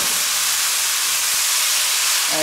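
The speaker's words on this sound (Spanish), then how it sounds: "Vamos friendo esto un poco más." Quinoa chaufa, a fried-rice dish seasoned with soy sauce, frying in a pan, giving a steady broadband sizzle and hiss that holds even and fairly loud throughout with no talk.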